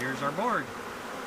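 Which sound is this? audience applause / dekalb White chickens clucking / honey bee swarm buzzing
honey bee swarm buzzing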